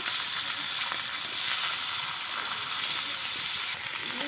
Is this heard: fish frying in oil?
yes